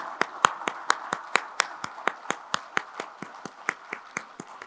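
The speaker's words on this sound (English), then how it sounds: "please join me with a big round of applause to welcome you on the stage" Sharp, evenly spaced claps welcome a guest speaker onto the stage at an Indian investing conference. Around twenty distinct hand claps keep a steady rhythm, fairly faint and without talk.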